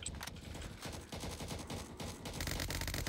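Rapid automatic gunfire from turrets in a video game, sustained dense bursts of shots rattling continuously for about three seconds, loud and close with no pause.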